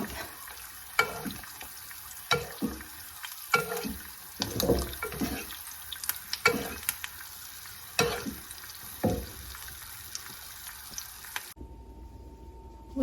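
Eggplant and okra fry over low heat in a pan, giving a soft background sizzle broken by repeated sharp clinks and scrapes of stirring, until the sound cuts off abruptly near the end.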